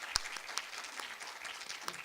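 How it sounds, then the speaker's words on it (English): Soft, scattered applause from an audience at a poetry recitation contest, a few distinct claps over a faint steady patter, somewhat distant and low in level. "I think Virginia deserves our applause."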